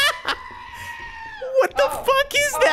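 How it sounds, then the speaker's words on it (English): Goat-scream air horn mod in the video game Lethal Company, a sustained bleating scream drawn out over a second, followed by excited voices talking and laughing over it. "Someone's got the air horn and it's the goat sound for me."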